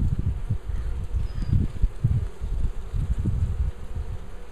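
Honeybee worker bees buzz in an open hive, a dense, continuous low droning hum up close with fluttering pulses and no speech.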